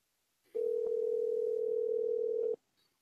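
Single steady telephone calling tone, one sustained electronic beep of about two seconds against a quiet background.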